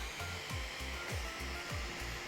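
A Realfit M335 Gen2 portable handheld fan runs on its lowest speed setting, giving a steady close whirring hum with a faint rhythmic pulsing, no talk over it.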